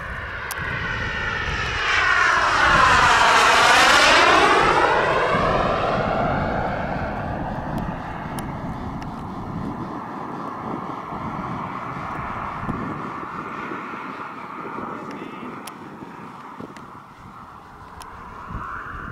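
Turbine-powered T-45 radio-controlled model jet flying at a club field, a loud rising and falling whine as it sweeps past close by, then a steadier, fainter roar as it moves away.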